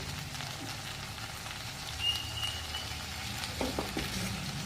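Masala okra (bhindi) being stirred in a pan with chilli paste, garlic and salt, giving a soft continuous sizzle with a few scraping stir strokes near the end, close and fairly quiet.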